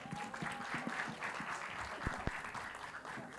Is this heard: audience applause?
yes